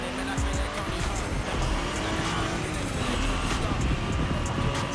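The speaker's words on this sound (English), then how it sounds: "This car sounds good. Just like Cobra. Oh, that's a Stingray." A Corvette Stingray driven in The Crew Motorfest racing game, its engine roaring steadily with tire squeal and skidding, loud and continuous over gameplay sound, with a person talking at times.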